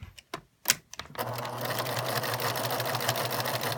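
A few sharp clicks and taps give way to a sewing machine stitching a pinned seam. It runs as a steady, close, rapid mechanical whir with a fast even rhythm, with no talk.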